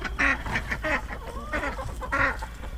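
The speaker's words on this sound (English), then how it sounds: "Our ducks are going at it." Two hens ducks squabble near a winter chicken coop, loud harsh quacks bursting in repeated clusters, close by and with no talking.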